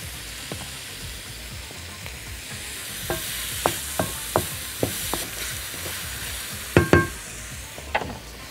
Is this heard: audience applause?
no